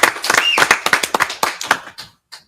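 A small group claps for the winner of a monthly club contest. The sharp claps come close and loud in an uneven patter, with some overlapping, then taper off into a few last claps and a pause.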